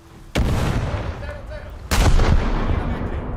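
Two heavy naval gun salvos boom out in a warship video game, each a sudden loud blast followed by a rumbling, lingering tail, the second arriving about a second and a half after the first.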